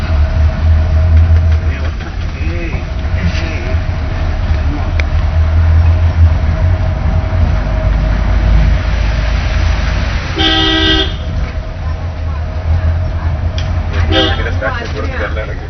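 A big vehicle, most likely a train, approaching and passing with a steady loud rumble throughout and horn toots near the end, while people talk over it.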